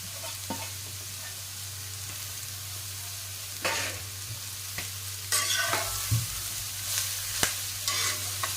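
Grated carrot with cashews and almonds being stirred in a pan for carrot halwa, a few scraping clicks and soft rustles over a steady low hum, with louder clustered stirring strokes near the end.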